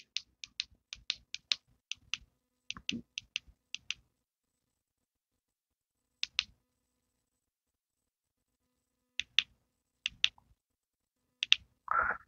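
A lamp's push button clicked repeatedly in sharp, close taps, first in a quick run of about a dozen, then sparse single clicks with pauses between, ending on a brief brighter tone.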